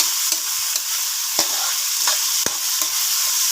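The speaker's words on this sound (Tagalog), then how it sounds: "Haloin na natin hanggang matumbaw ng ating mga ingredients." Bacon, onion, garlic and tomato sautéing in a pan, a steady bright sizzle throughout with several sharp scrapes and knocks of a utensil stirring at irregular intervals, close up and alone.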